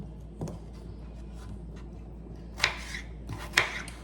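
Knife chopping a half onion on a cutting board for a ladies finger curry: one soft cut early, then two sharper crisp chops near the end over a quiet kitchen background, with no talking.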